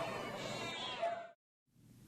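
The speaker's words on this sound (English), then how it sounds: "The university bought this affectionate cat, named Robert, from the Davis County Animal" A cat at a University of Utah research lab meows in one drawn-out, fairly close cry, followed by a brief silence and a faint second sound.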